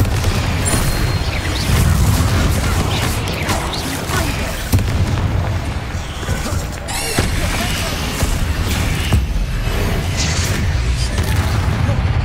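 Bombarda and Confringo spell blasts in Hogwarts Legacy sound as repeated booming explosions and bursts within a dense, loud battle wash, several sharp impacts spread across the stretch with shouted incantations between them.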